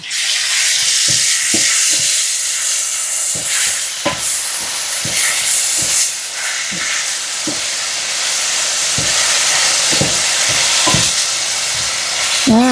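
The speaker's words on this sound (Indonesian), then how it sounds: "Tumis sampai harum. Tumis sampai wangi." Galangal and bay leaves sauté in a pan with a continuous hissing sizzle, punctuated by regular scraping and knocking of a spatula stirring against the metal.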